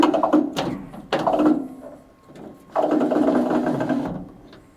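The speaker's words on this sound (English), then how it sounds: "you can hear it wiping the window clean" Beltline window trim on a car door wiping the glass as the window is cranked, a mechanical rubbing whir in two main passes with a short pause between, close and fairly loud.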